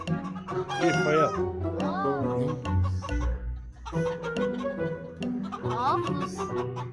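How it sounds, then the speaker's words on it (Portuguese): A rooster crows several times close by while chickens cluck and squawk around it in a busy farmyard chorus. "Fala, galo."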